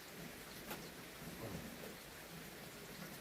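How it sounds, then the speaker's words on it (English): Rain falls steadily outdoors in cold weather, a faint continuous hiss of drops on surfaces with no talk and no breaks. "Yeah, you love the rain sounds."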